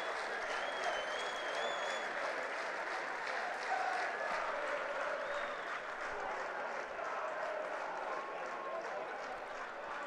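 North Stand supporters at a Wakefield Trinity versus Featherstone Rovers rugby league match give a sustained round of applause for Ollie Pratt's try, dense even clapping throughout with faint crowd noise.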